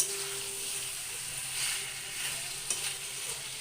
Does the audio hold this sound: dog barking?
no